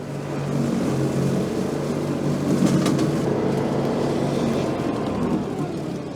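An Iseki SRA950 brushcutter with a 21 horsepower Kawasaki V-twin engine cutting through thick brush and weeds: a loud, steady engine drone runs unbroken from start to finish, close by.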